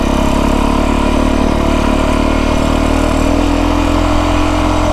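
A Beta 350 dirt bike engine idling out in the desert, a loud, steady, close mechanical thrum with rapid even firing pulses and no talking.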